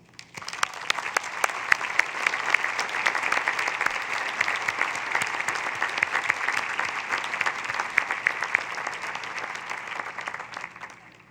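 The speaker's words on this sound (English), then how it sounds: "please join me in a round of applause" Sustained, dense applause from a large audience at a Bridgewater State University graduate commencement in 2019, honoring the graduates. The clapping is steady and loud throughout, with no voices over it.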